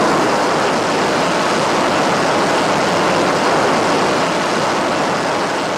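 An F-14 Tomcat fighter jet roars down the runway on takeoff, a loud, continuous, broadband engine rush that holds steady and close throughout, with no speech over it.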